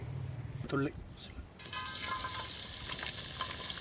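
Garlic dropped into hot oil in a heated kadai, a steady broadband sizzle that starts abruptly partway through and continues loud and close after a brief clatter and some faint background sound.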